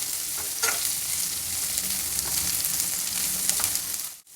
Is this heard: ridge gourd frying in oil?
yes